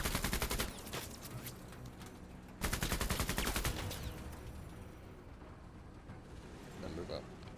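A squad in a video game fires bursts of gunfire, with loud rapid shots at the start and again in the middle, then quieter scattered shots while players talk over the action.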